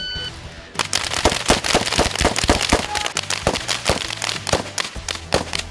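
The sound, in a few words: gunshots from firearms on a police shooting range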